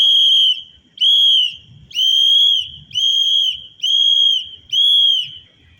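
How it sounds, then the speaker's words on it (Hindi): A whistle blown hard, as a loud signal meant to carry far, sounds six sharp, shrill blasts in a steady, evenly spaced rhythm, each held just under a second, with no voices. "एक नॉर्मल वसूल कैसे बजेगा आपसी इंफॉर्मेशन के लिए"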